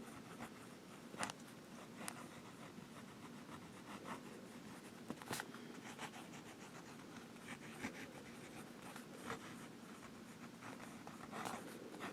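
A Platignum fountain pen with a medium nib writes on paper, giving faint, close scratchy strokes in an irregular rhythm against a quiet background.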